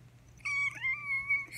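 A cat gives a drawn-out, wavering meow, loud and close, rising and bending in pitch for about a second over a faint steady hum, with no talking.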